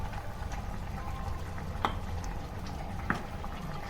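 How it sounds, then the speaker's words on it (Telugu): Ragi flour porridge bubbles in a pot on the stove, a soft continuous simmer with a couple of sharper pops and plops rising from the thick mixture, close and fairly quiet. "ఓకే, ఉడుకుతుందండి."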